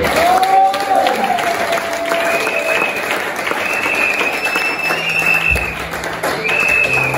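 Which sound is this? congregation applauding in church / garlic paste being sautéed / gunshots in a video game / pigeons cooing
congregation applauding in church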